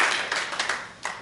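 Live show audience clapping for a performer, a scattered round of handclaps rising in bursts and fading, fairly close and without voices over it.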